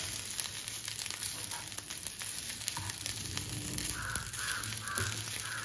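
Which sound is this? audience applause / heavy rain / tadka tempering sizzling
tadka tempering sizzling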